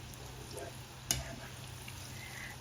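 Peanuts coated in batter for Ghanaian Nkatie burger fry in hot oil with a steady, low sizzle throughout and one brief sharp clink or splash partway through.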